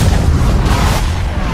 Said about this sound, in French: L'île flottante explose, ne laissant que le cube en lévitation au-dessus du vortex.